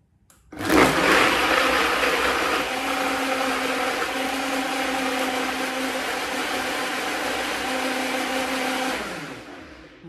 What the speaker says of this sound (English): I use the NutriBullet blender, which is quick and easy.